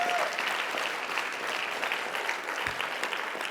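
A crowd gives a sustained round of applause at a nurses' organization update meeting, dense steady clapping heard from a slight distance with faint voices mixed in.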